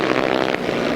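500cc grasstrack racing motorcycles revving hard as a race starts, a dense, loud, continuous roar of several engines all running together with no gaps.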